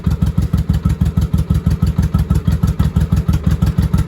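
A 1983 Honda Shadow VT750C engine runs on its own nearby, a loud, lumpy, evenly pulsing idle with a throbbing rhythm throughout.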